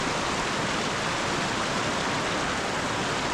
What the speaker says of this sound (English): That was a creek crossing, little bridge there